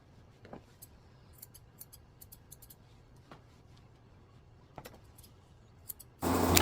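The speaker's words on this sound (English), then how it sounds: "trimming them straight across with my curved scissors" Curved scissors trimming the bangs of a Maltese-Poodle, quiet scattered snips spread across several seconds in a hushed room, ending in a sudden burst of louder noise.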